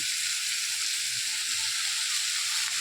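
Onions frying in a pan at home for a leafy vegetable curry, giving a steady, close, loud sizzle with constant bright hiss throughout and no talking.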